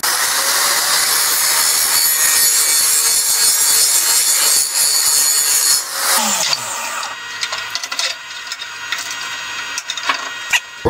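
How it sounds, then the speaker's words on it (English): An angle grinder works on a steel welding table support, a loud steady abrasive whine that drops off about midway, followed by quieter scraping and handling of metal. "So now we just need to grind back a little bit where center is"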